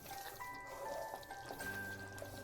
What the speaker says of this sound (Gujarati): એક ગ્લાસ ગરમ પાણી અત્યારે આપણે ઉમેરીએ છીએ